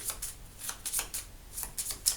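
A deck of game cards for a DC deck-building game is shuffled close by, with soft, rapid riffling bursts that repeat irregularly and no talk.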